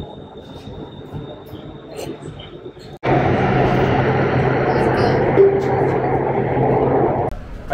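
A Bangkok subway train rides along with a steady loud rumble and rail roar that starts abruptly partway through, after quieter station ambience; faint voices sit beneath the noise.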